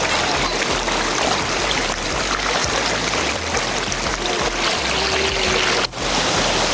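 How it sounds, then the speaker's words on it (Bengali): A river current at Shiv Khola near Siliguri, running high during rain, rushes in a steady loud wash that fills the whole stretch alone, with no voices over it. "আর সাথে নদীর স্রোত"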